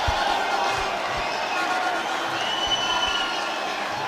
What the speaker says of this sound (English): Everyone is cheering them on at this ground.